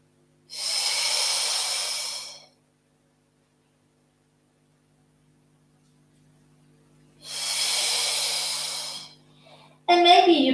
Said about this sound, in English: Maybe starting to use a nice audible breath pattern.